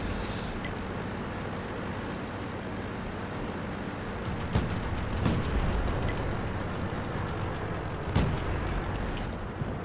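Artillery fire in the World of Tanks video game booms in several sharp, distant blasts over a steady rumbling battle background, with no talking.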